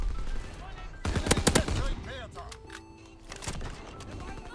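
Rapid bursts of automatic gunfire from a strategy video game with turrets and artillery crackle loudly over a second, then trail into scattered shots beneath in-game voice announcements.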